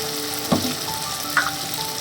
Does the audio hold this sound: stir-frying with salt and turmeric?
yes